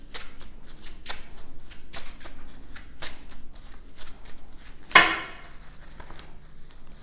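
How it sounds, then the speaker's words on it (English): Playing cards riffle and flutter in a fast, crisp run close by, ending in a sharp snap as the deck comes together, with no voices. "let me shuffle one more time"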